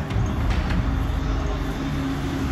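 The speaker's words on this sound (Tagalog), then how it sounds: "Parating na po yung tren" A train rumbles into a station in Tokyo with a loud, steady low roar and a faint high whine above it. No voices are heard over the noise.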